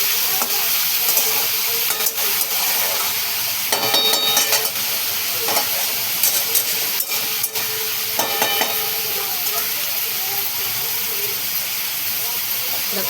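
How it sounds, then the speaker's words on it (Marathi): Onion and tomato sauté in oil for a Marathi dried-shrimp chutney, giving a steady close sizzle and hiss that runs the whole time, broken by scraping stirs and clinks of a spatula. "बघा कांदा छान असा आपण परतून घेऊया"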